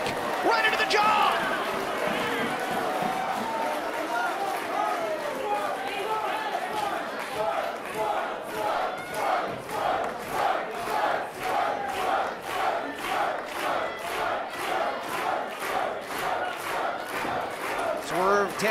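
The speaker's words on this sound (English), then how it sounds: "Tapping into the energy that is the crowd here, the Defiance at Washington Hall" A wrestling crowd at Washington Hall for a DEFY Wrestling show roars and chants, loud and dense throughout, settling into a rhythmic pulsing clap-chant in the second half, with a commentator's voice over the top.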